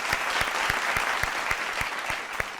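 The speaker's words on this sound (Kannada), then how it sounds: "ಜೋರಾದ ಚಪ್ಪಾಳೆ ಬರಲಿ" A studio audience at a televised Kannada singing reality show claps steadily and fairly loudly, a dense continuous applause with no voices over it.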